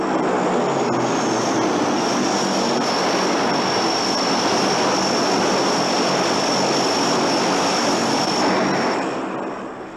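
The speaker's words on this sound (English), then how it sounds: "Both C-141 Starlifter and C-130 Hercules transports were used in this phase" Military transport aircraft, C-141 Starlifter and C-130 Hercules, give a steady loud engine roar with a high whine that holds for ten seconds and eases slightly at the end, with no voices.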